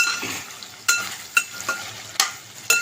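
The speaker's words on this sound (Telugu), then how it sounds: "దీంట్లోనే కొద్దిగా ఉప్పు వేసుకుందాం ఇలా కలబెట్టుకోవాలి" Curry of kandana kaya (pointed gourd) being stirred in a pan after salt is added: a soft steady sizzle with sharp spoon scrapes and clinks every half second or so, close and alone.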